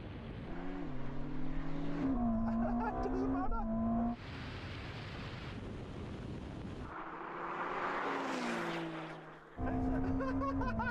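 A Ferrari SF90 and a Porsche 911 Turbo S launch in a drag race, engines roaring with rising revs and gear shifts, loud and continuous, while people talk over the noise.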